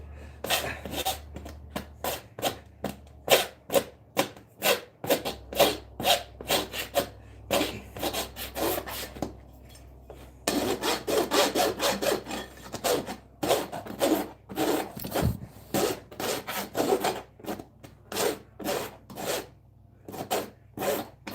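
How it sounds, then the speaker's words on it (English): Farrier rasping nail clinches off a horse's hoof, quick rhythmic scraping strokes in steady runs, close and crisp, with a brief pause midway before the rasping picks up again. "all I was doing there was rasping those couple clinches off that I couldn't see with that clinch cutter"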